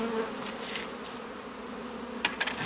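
Honeybees buzzing in an opened hive during a colony inspection, a steady, dense hum up close with a few sharper buzzes near the end.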